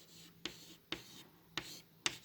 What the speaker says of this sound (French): je l'écris